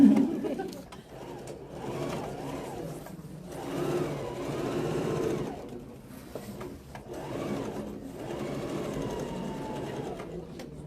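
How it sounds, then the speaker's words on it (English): A domestic sewing machine runs in several bursts, stitching back and forth to back tack a seam, its motor whirring in rising and falling runs with short pauses between. "Back tacking is when you sew back and forth."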